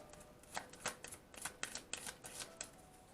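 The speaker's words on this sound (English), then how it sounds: "Let's do this last shuffle." Quick papery riffles of tarot cards being shuffled, several short bursts in an uneven rhythm, close and fairly soft with no voices.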